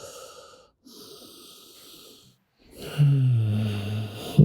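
Deep yoga breathing heard up close: two soft, airy breaths, a short pause, then a louder, fuller breath with a slight voiced rasp.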